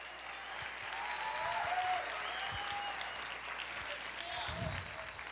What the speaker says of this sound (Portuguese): Aplauda o Senhor, libere esse espírito de louvor.